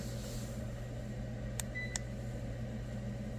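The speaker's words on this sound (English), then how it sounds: "It makes it beep." Two short electronic beeps less than half a second apart from a ceiling fan's receiver, faint over a steady low hum.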